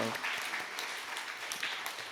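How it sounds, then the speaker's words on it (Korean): Church congregation applauding during a Sunday worship service, an even, crowded patter of many hands clapping at a distance, fairly quiet and unbroken, with no one speaking over it. "다시 한번 큰 박수 축복하겠습니다"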